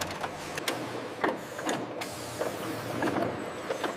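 Can packaging machine in a camel milk factory drawing out oxygen and flushing cans with nitrogen gas, a steady broadband mechanical whir and hiss with repeated short clicks and clunks throughout, moderately loud and continuous, with no voices.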